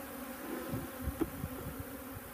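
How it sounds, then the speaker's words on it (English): Honey bees buzzing around a beehive being winterized, a steady low drone with a few louder passes close by, no voices. "I shook out the majority of the bees."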